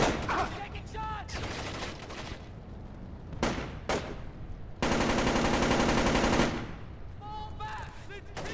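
Heavy gunfire erupts in the 2005 stealth shooter Splinter Cell: Chaos Theory, with sharp separate shots, a sustained loud automatic burst in the middle, then more scattered shots.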